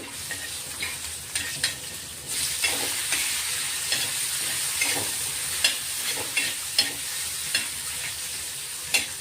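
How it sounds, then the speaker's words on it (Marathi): Chilies and half a tomato fry in hot oil in a pan for a Khandesh-style thecha, a steady close sizzle broken by regular stirring scrapes and clicks of a spoon. "तो तिखटपणा कमी होणार म्हणून आपण थोडा असं तळून घेणार आहे."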